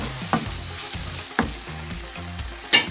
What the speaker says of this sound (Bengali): দিয়ে পেঁয়াজটাকে একটু ভেজে নেব